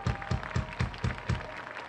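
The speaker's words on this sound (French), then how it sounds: "On vous demande encore beaucoup d'applaudissements pour eux" An audience applauds at a live concert of a tribute band, rhythmic unison clapping in steady beats roughly every quarter second, fairly loud and close with no voices.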